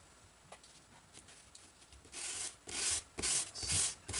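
Sandpaper rubs over the glued seam of a wooden GreatPlanes PT 20 float model airplane, starting faint and growing into several loud, rasping strokes near the end.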